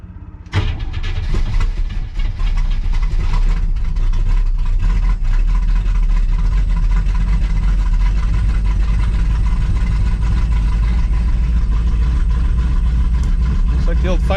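A 1957 car fitted with Fitech EFI cranks briefly, then catches on a cold start and settles into a loud, steady, rumbling idle that runs on close by, with someone talking over it.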